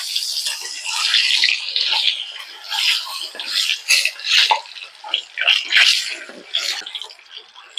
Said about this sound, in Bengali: এবার সবচেয়ে প্রথমে এই ডিম দুটার ভাইজে উঠায় নেব।